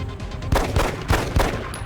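Pistol double-tap shots in the PC game XCOM Enemy Within: four punchy gunshot bursts in rapid pairs across two seconds, loud and close, with no talk over them.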